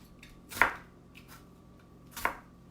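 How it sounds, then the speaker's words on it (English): A knife chops down through an onion on a cutting board, two distinct sharp cuts about a second and a half apart with quiet between them. "I'm going to go and cut it into thin strips. I just go down the onion."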